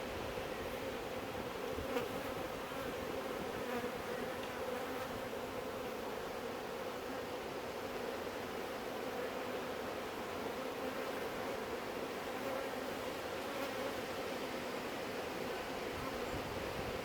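Honey bees hum around an open, overcrowded hive being split, a dense and continuous buzzing swarm that stays close and steady throughout, with no talking.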